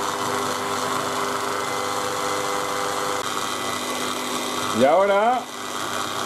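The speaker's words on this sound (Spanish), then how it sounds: "Ahora echamos la harina. Y lo ponemos a batir." Electric mixer beating sponge cake batter with flour, a steady motor whir close by throughout, with a brief voice near the end over the hum.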